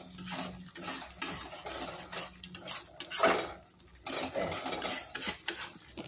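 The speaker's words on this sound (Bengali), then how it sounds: "কসুরি মেথিটাকে ভালোভাবে এর মধ্যে মিশিয়ে নিচ্ছি।" Kasuri methi is stirred into chicken tikka masala in a pan: a spoon scrapes and rasps against the metal in repeated strokes, close and fairly loud, with brief pauses between them.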